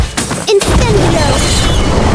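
An Incendio fire spell in Harry Potter: Magic Awakened erupts as a loud, dense booming whoosh with a brief sharp hit, filling the short stretch without pause.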